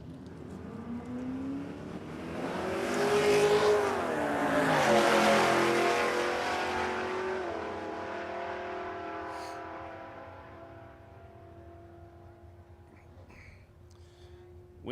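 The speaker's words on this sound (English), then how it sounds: "That sounds like a Nitro car warming up." Nitro drag racing car warming up at Warwick Dragway in Australia, a loud, distant engine roar that swells, peaks and then fades away with a falling pitch.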